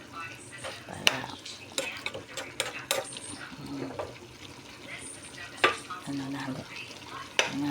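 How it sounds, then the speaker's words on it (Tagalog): Malunggay and pechay being sautéed in a pan for a brothy vegetable dish, with soft sizzling under repeated scraping and clinking of a utensil against the pan, plus occasional sharper knocks, all close by. "Ginisa natin na sabaw-sabaw"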